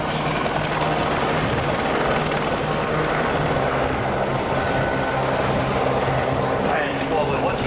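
Two Navy Squirrel helicopters fly a display at the 2009 Australian International Air Show, their rotors and engines making a steady, continuous drone at moderate distance throughout.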